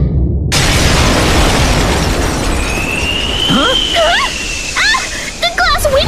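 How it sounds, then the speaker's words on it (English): A glass window shatters in a cartoon-style horror game scene, a loud sudden crash at the start followed by a sustained noisy wash with whistling and cartoonish squeaky tones layered over it. "The glass window's all shattered!"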